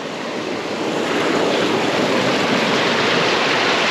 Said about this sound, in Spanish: Miren la cascadita aquí.